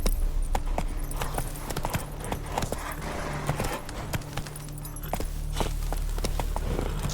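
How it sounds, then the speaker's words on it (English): Game horse galloping across open country in The Witcher 3, hooves pounding in a steady fast clip-clop rhythm over a low ambient hum, with no talk. "Run, Roach"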